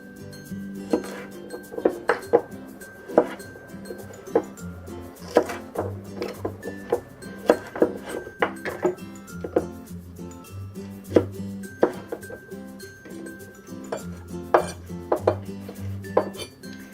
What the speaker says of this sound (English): I'm going to cut them in half, and then in little pieces.